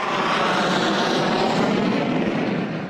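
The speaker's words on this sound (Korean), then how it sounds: "땅에 거의 닿을 듯 내려앉은 전투기 소음은 최저 100데시벨." A military fighter jet comes in to land on a runway beside a sports ground, a loud, continuous roaring engine rush close by that holds steady before fading slightly.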